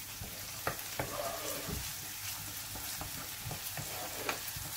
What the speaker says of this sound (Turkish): Soğanımı kavuracağım.